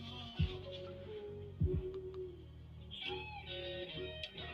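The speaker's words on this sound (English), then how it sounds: "see my cat?" A pet cat named Yazzy meows a couple of times over a low, steady indoor hum, with faint background sounds in between.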